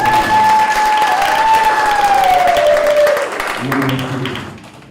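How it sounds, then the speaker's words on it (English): An audience at a graduation ceremony bursts into dense, continuous applause that carries a long whistle-like tone, then the clapping thins and dies away as voices rise near the end. "Give them another round of applause"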